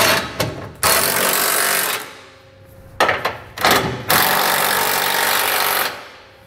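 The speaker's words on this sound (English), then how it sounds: "we'll come back with a 15/16 size socket and snug everything down" A 15/16 socket wrench snugging down trailer hitch hardware on a 2019 Ford, heard as loud, harsh mechanical bursts of rapid tool noise, several starts and stops, close to the listener with no speech.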